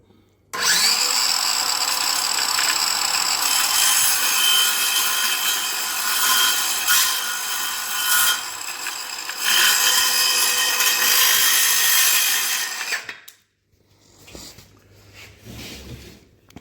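A Milwaukee power saw fitted with a Diablo blade cuts through wood in one loud, sustained pass of about twelve seconds, then stops abruptly. Faint handling noise follows.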